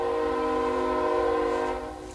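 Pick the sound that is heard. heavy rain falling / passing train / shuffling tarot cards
passing train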